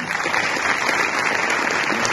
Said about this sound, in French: Je vais vous demander, s'il vous plaît, de réserver un tonnerre d'applaudissements à cette équipe.